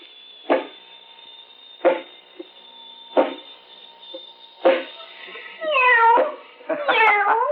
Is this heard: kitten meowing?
yes